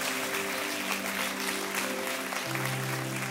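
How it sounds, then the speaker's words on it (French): Congregation at a French-language church service applauding loudly and steadily after a call to say amen, a dense wash of many hands clapping, with a sustained organ or keyboard chord ringing beneath throughout. "dites Amen et applaudissez bien fort"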